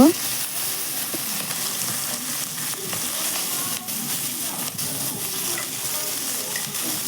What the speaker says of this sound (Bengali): তো দেখো মাছগুলো এগুলো উল্টে দিচ্ছি, দিয়ে আমি এগুলো লাল লাল করে ভেজে নেব